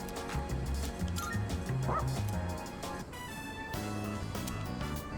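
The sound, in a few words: dog barking in Persona 3 Reload video game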